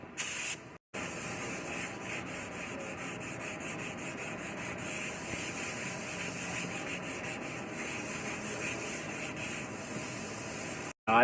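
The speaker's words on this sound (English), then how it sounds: "I block any area where there was a repair, where body filler was or anything like that. You want to block the primer." Primer being block sanded by hand with 320 grit sandpaper over body filler repairs on a car panel in a body shop; a steady, continuous rubbing scrape runs close and even for the whole stretch, with one brief break near the start.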